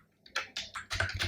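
A web address typed on a computer keyboard: a quick, close burst of about half a dozen crisp key clicks in an uneven rhythm.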